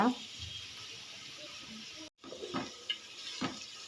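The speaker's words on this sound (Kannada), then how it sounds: "ಇದು ಎಣ್ಣೆಲಿ ಸ್ವಲ್ಪ ಬೇಯಬೇಕು ಅಲ್ಲಿವರೆಗೂ ಇದನ್ನು ಚೆನ್ನಾಗಿ ಮಿಕ್ಸ್ ಮಾಡೋಣ" Cabbage frying in oil in a pan for a cabbage upma, giving a faint steady sizzle with a few scraping stirs and a brief break, while a person talks over it.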